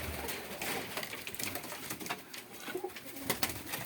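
Yeysk double-crested pigeons cooing softly among rustling and shuffling sounds during breeding season, faint and close, with no talking.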